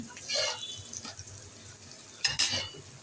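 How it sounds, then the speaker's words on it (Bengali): Frozen kebabs sizzling in hot oil give a quiet, steady frying hiss, with a couple of brief clinks and scrapes as they are lifted out of the pan. "কাবাব ভাজা হয়ে গেছে আমি এগুলো"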